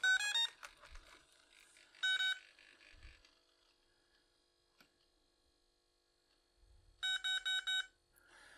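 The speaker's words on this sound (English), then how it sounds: "you heard the 2 little beeps that said I'm in programming mode" Two short bursts of high electronic beeps from an electronic speed controller entering programming mode near the start, later a rapid series of four beeps, with quiet hum and faint handling noise between.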